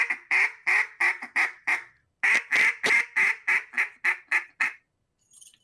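A hand-blown duck call mimics a mallard hen's quack cadence: two loud runs of about eight and ten sharp, evenly spaced quacks with a short pause between them, close and clear over silence.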